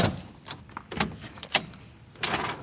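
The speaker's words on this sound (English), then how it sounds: "Front shop door open." A shop door opens with a few separate knocks and clatters, then a longer scraping swing near the end, heard fairly close in a quiet room with no voices.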